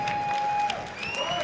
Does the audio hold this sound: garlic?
no